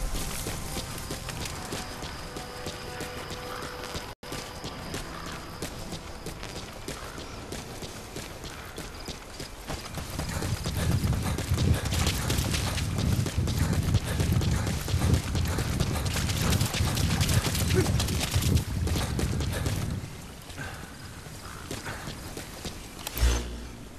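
Horse hooves clip-clopping in the video game Metal Gear Solid V: The Phantom Pain, steady rhythmic hoofbeats under creaking and mechanical game sounds, growing louder and heavier midway before easing off.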